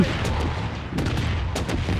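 Explosions and gunfire in the shooter video game Blood Strike, a few sharp bursts over a dense rumbling backdrop, loud and close, with no talking.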